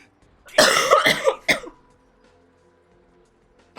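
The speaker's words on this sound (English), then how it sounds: "Your coughing is contagious." A character in the video game Vampire The Masquerade Bloodlines coughs in a loud burst of about three harsh coughs, followed by a quiet tail with no talking.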